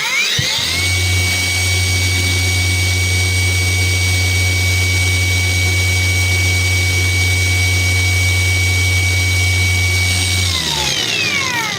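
A PATUOPRO angle grinder spinning up and running at a steady high speed, a loud continuous whine with a strong low hum held evenly for about ten seconds, then winding down at the end.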